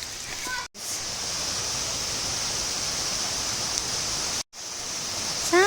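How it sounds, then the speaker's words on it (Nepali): A small waterfall in the middle of a village forest in Nepal, a steady close rush of falling water, broad and even, cut by two brief gaps. "हाम्रो गाउँको जङ्गलको बिचको झरना"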